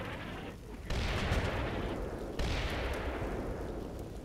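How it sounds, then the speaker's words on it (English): An enemy artillery barrage lands in Combat Mission: Shock Force 2, with two heavy booming impacts, each swelling into a long rumbling roar that slowly fades. The blasts sound moderately distant and stand alone without talk. "that's definitely an enemy barrage coming in here"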